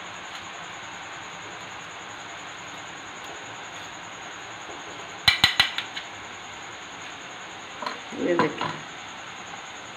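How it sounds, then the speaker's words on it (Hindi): Boondi batter dropped through a strainer into hot oil gives a low, steady frying hiss with a brief cluster of sharp clinks midway, and a person speaks briefly near the end. "अब हम बूंदी बनाना शुरू करते हैं।"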